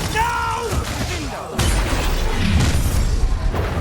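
In Hogwarts Legacy, a Confringo fire spell erupts into a loud booming blast after a brief spoken incantation and whooshing, followed by a sustained rumbling crackle of the explosion.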